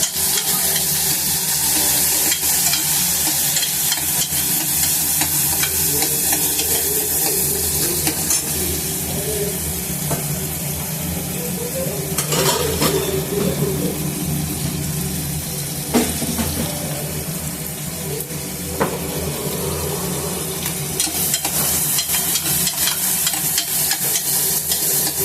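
Onions and green chilies fry in a pan for a Guntur-style amaranth and tomato curry, a steady loud sizzle running throughout with repeated scraping stirs and clinks of the spoon against the pan, no talking.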